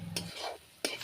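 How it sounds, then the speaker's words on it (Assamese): Spices fry in hot oil for a goat mutton curry, giving a soft steady sizzle broken by two quick scraping strokes of a spoon stirring the pan, heard close up. "ভালকৈ ভাজি লওঁ এইখিনি"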